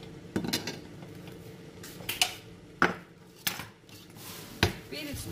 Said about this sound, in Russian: Перец тоже режем крупно.